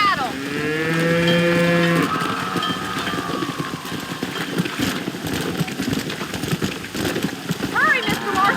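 Cattle mooing in the Red Dead Redemption video game, one long, loud bellow up front and a fainter call near the end, over rain, hooves and characters talking.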